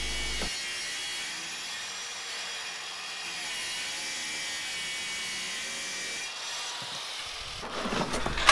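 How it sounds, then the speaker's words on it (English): A track saw cuts through wood in one steady, fairly loud whining pass lasting several seconds, ending with a brief rise in noise. "this is probably the most I've ever used my track saw"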